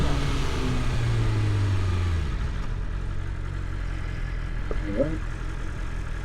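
A car holds a steady speed on a road, giving a continuous low engine and tyre rumble with a faint whine early on. The hum is fairly close and even throughout, with no revving and no voices.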